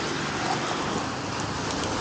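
Heavy rain pours during a motorcycle ride on a mountain road from Chopta toward Delhi, a dense, continuous hiss of rainfall with steady loudness and no talk.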